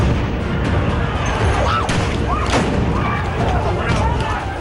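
Dense, noisy crowd din at a street protest with sharp explosion bangs and tear gas shell bursts breaking through, a few whistling streaks, continuous and loud throughout.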